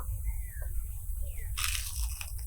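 One loud, crisp crunch as someone bites into a fried crispy tomato chop, followed by a brief crackle of breaking crust, close to the microphone after a quiet moment.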